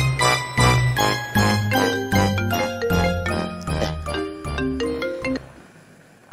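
A phone ringtone plays a bright, chiming melody of repeated notes, loud and close, then stops abruptly.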